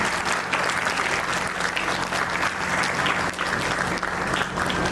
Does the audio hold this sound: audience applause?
yes